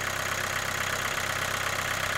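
A 2013 Vauxhall Astra J with the 1.7 CDTi diesel engine, which has a high fuel pressure fault, idles low and steady with a constant, even drone and a faint rhythmic clatter, close up and uninterrupted.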